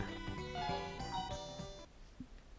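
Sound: old mobile phone ringtone in a Sega Saturn video game

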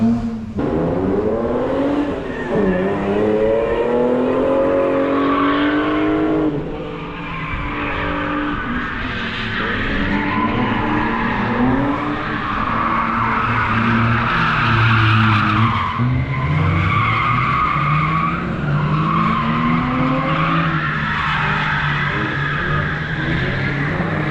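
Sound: BMW E39 cars drifting with tire squeal

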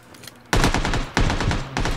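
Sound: suppressed gunfire in PUBG video game

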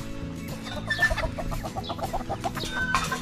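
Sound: chickens clucking

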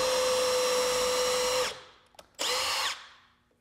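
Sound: power drill drilling into board

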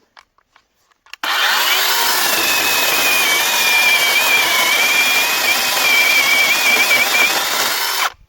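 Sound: Procraft PKA42Li cordless chainsaw cutting a 12 cm log

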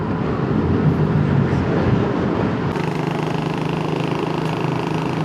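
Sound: Yamaha Nmax V2 scooter engine while riding

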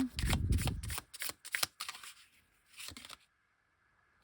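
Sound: drawing tarot cards from the deck

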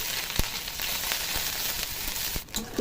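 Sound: chopped onion frying in oil with spices

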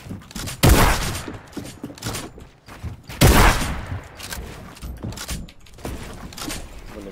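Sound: gunfire from distant players in a shooter video game

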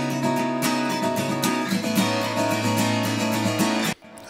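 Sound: two acoustic guitar tracks

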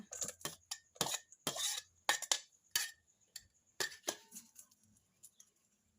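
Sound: winged bean pods added to a bowl for Thai salad

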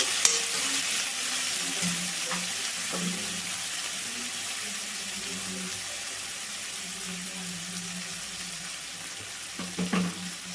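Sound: frying moong dal in a pan

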